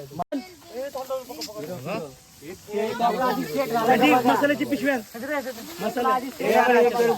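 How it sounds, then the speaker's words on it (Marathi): Hot oil hisses and sizzles as a tempering goes in for a kaul chicken fry cooked outdoors on a farm field, a steady broadband crackle running under near, busy talk from several people. "आणि आता याला फोडणी द्यायची आहे."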